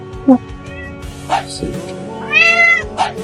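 A sick cat meows several times up close, with short rising and falling cries, the last one long and drawn out, while a person speaks in between.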